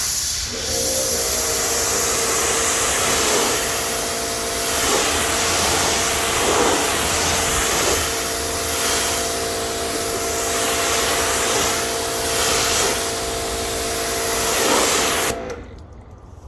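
A steady, loud hissing rush of pressurized water spraying continuously, with a faint tonal hum underneath, cutting off abruptly at the end.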